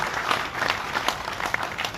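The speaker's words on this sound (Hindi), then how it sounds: "जरा तालियां बजाकर उनका भी अभिनंदन" An audience claps steadily, a fairly quiet patter of many hands applauding together without voices.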